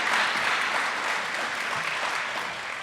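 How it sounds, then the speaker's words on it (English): Round of applause from the audience at a local political forum for county judge executive candidates, a dense steady wash of clapping that tapers slightly. "Let's have a round of applause for our county judge executive candidates."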